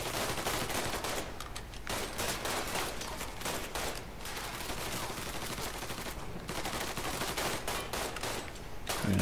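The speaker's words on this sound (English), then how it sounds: "I'm gonna shoot away out of this one." Dense, continuous gunfire from the video game Mafia 3 fills the scene, a steady loud fusillade of overlapping shots with no voices.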